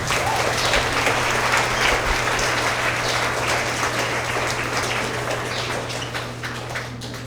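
Steady audience applause fills a school awards assembly for third to fifth graders, a dense, sustained wash of many hands clapping that fades slightly toward the end, with a low steady hum underneath.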